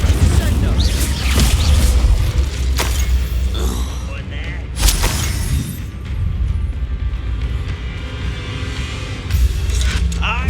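Incendio fire spells are cast during a Hogwarts Legacy battle, several loud booming blasts and crackling impacts layered over dense combat noise and rumbling game music, with voices calling out during the fight.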